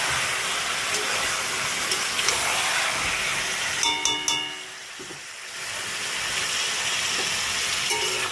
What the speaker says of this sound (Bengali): আগে আমি মাংসটা একদম একটু লাল লাল করে ভেজে নেব